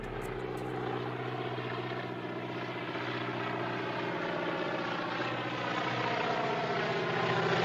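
A propeller airplane drones through a movie chase scene, a steady, fairly faint engine hum with a buzzing airscrew tone that grows slightly louder toward the end.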